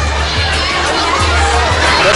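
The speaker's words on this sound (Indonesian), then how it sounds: "Sorak-sorai para siswa terdengar saat nama Barack Obama disebutkan" Schoolchildren cheering loudly in a packed room at an Indonesian school following the 2012 US presidential vote count, a dense sustained roar of young voices shouting together, close and continuous.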